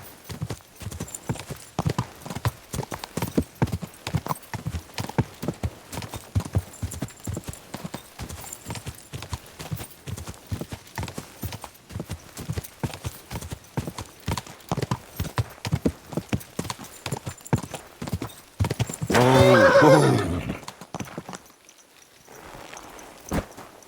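Horse hooves clip-clop at a steady walking pace through a Kingdom Come Deliverance II game scene, a burst of neighing rising near the end before the hoofbeats fade.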